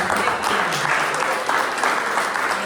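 An audience applauding at a talk on Random Acts of Flowers in Asheville, continuous dense clapping at an even, moderate level for the whole stretch.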